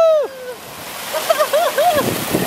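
Water splashing and sloshing as a child comes down a water slide, with excited voices calling out over the rushing water.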